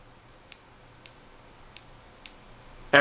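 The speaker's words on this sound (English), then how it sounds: "We've got an audible click." A rifle scope turret on an Atibal Velocity 1-4x is turned, giving four crisp, evenly spaced clicks that are close and faint against a quiet background.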